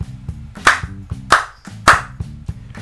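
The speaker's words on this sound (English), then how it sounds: "this spatula, for whatever reason, makes an incredible clap sound when you hit it against the palm of your hand" A concave rubber spatula is slapped against a palm, giving three sharp, loud claps at an even pace over a quiet, rhythmic backing beat.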